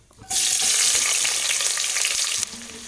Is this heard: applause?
no